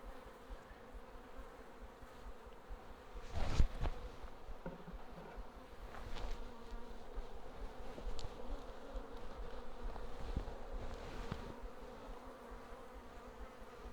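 Honeybees buzzing around an open hive, a soft, continuous hum of many wings that swells faintly now and then, with occasional closer passes and light handling knocks.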